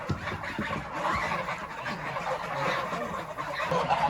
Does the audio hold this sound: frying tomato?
no